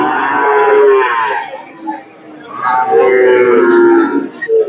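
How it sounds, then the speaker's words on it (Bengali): Heifer calves at the Hazratpur cattle market moo loudly and close, two long drawn-out calls separated by a short pause. "এই যে দুটি বাছুর রয়েছে এখানে"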